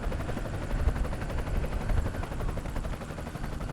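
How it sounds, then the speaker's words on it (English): A camera drone flies nearby outdoors, its steady rotor buzz forming a continuous loud whir that stays fairly even throughout, with no talking. "there's my drone"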